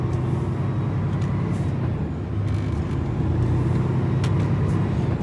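Steady low engine rumble heard from inside the cab of a Peterbilt 579 truck, droning continuously and fairly loud with no talking.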